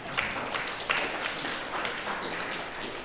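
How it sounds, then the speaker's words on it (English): A church congregation gives a round of applause, a soft, scattered patter of clapping heard from a distance at fairly low volume. "let's just give him a round of applause."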